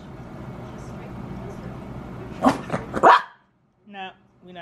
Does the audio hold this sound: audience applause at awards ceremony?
no